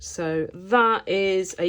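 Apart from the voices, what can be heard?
No everyday noise stands out behind the speech.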